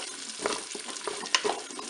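Lardons and potatoes sizzle in a Cookeo pot while a spoon stirs them, a short burst of scraping strokes and light clinks over a steady close frying hiss.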